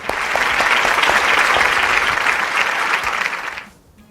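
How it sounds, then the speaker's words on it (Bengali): Studio audience applause on a student quiz show, a dense steady clapping that holds for about three and a half seconds and then fades out quickly. "ওদের জন্য একটা জোরে হাততালি।"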